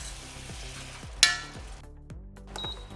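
Bacon jam with apple cider vinegar bubbling in a pan, a soft steady sizzle with rhythmic pops and a single sharp clink of a utensil partway through.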